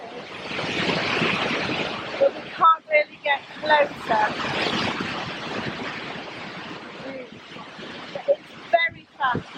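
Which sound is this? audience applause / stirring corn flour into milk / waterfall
waterfall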